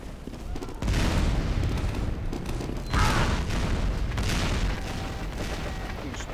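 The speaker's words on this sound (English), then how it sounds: "Explosion's just going on all the time." Repeated explosions and booming blasts fill a Team Fortress 2 match, loud and dense from about the first second, with a sharper burst near the midpoint and no talking over them.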